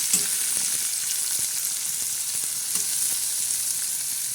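Onion, curry leaves and tomato sizzling in hot oil for a tadka, a steady close hiss of frying with faint stirring clinks and no talk.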